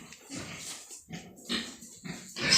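Several pigs on a farm that also keeps goats grunt and snort in short, irregular bursts as they rush toward feeding. The sounds are close and fairly loud, with brief gaps between them.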